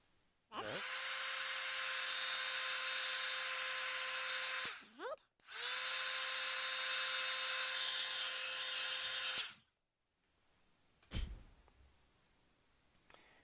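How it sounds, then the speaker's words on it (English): A heat tool sets stamped gold ink on foil ornaments, giving two long, steady, loud whooshing blower runs of about four seconds each with a short break between, then a click and near silence. "Okay, so let's heat set."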